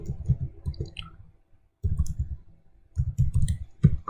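Typing code on a computer keyboard gives bursts of close, rapid clicking, separated by short pauses and one near-silent gap, with no voice.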